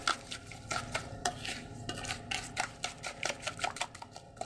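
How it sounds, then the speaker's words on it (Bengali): A whisk or spoon beats a mixture of salt and sugar in a bowl, producing rapid, repeated clinking and scraping strokes against the bowl in an uneven rhythm, close and fairly quiet, with no talking. "এটাকে ভালোভাবে আমি ফেটে নেব যেন চিনিটা একবারে গলে যায়।"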